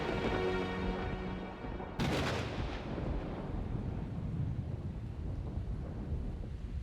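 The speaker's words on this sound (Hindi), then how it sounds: "बिजली कड़क रही। अब क्या करेंगे हम?" A sharp crack of thunder bursts out, then rolls into a long, low rumble that fades slowly, heard from a distance with faint rain-like hiss, before heavy rain.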